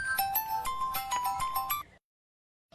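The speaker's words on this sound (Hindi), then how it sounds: "आपके कर फोन आवत बा।" Mobile phone ringtone plays a bright, loud, beeping electronic melody of quick repeated notes for nearly two seconds, then stops abruptly into silence.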